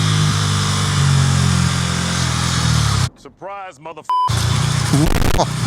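A Bajaj Pulsar NS400Z motorcycle engine roars loud and close under throttle, then cuts out during a quick gear change. A brief voice is heard in the gap before the engine note returns strongly.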